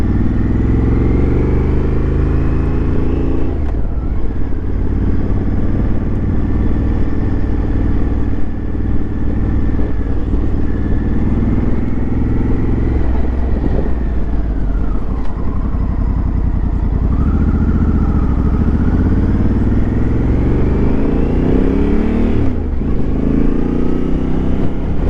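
A Honda Africa Twin rides slowly through traffic with a steady, loud engine drone and exhaust rumble, pitch rising and falling gently as the throttle is eased, with wind noise and no talking.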